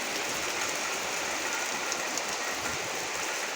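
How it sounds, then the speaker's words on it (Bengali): Heavy rain pouring steadily, recorded from a rooftop in the early evening; a dense, continuous hiss of drops fills the whole clip at even loudness, with no talk over it. "জোরে জলটা, খুব জোর বৃষ্টি হচ্ছে।"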